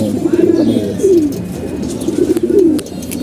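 Pigeons coo in a loft, several soft rolling calls repeating in two clear bursts close by over a steady low background hum, with no voices.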